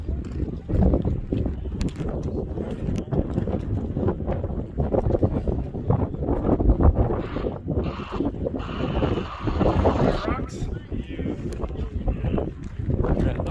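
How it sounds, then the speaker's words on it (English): Wind blows hard at the Crazy Horse memorial during an outdoor volksmarch walk, a loud low rumbling buffet that roars and gusts unevenly throughout, with a brief higher whistle midway. "Got the wind coming through it."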